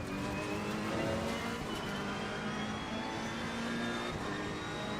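Race car engine in a GT3 racing video game at Donington Park, a continuous loud whirring drone with shifting engine pitch as the car brakes and slows, no talk.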